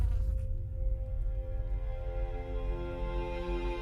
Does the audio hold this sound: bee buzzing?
yes